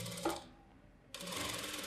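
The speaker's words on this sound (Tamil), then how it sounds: "கரெக்டாக அந்த மார்க்லேயே பார்த்து நான் தையல் போடுறேன்" A sewing machine stitches a boat-neck blouse back in two bursts of steady whirring, with a pause of near quiet between them. No one speaks.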